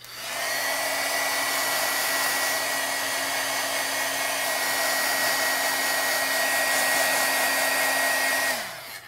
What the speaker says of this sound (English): I'll take my heat gun and heat up that tip a little bit more.